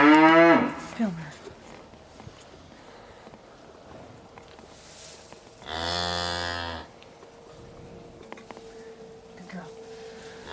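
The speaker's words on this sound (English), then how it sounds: "So they all moo. She knows where her calf is though." A dairy cow moos loudly once in a barn while her calf is nearby. Before that a person talks briefly, and soft footsteps and quiet barn sounds fill the gaps.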